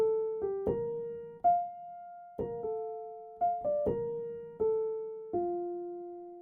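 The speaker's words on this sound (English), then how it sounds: "to make this lead, I started with the soft piano preset in Labs, and I played this pattern" A soft, clean piano preset plays a short repeating lead pattern of plucked notes, each ringing and fading, alone with no other sounds.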